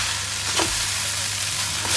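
Vegetable noodles and mixed ingredients sizzle and fry steadily in a hot pan while being tossed together, a close, continuous crackle with soft scraping of stirring.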